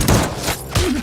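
Gunfire in an action film shootout, two loud sharp bursts about 0.7 seconds apart with a dull rumbling tail, no talk over them.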